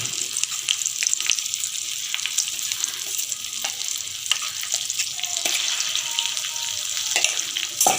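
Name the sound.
tempering for gongura pickle sizzling in oil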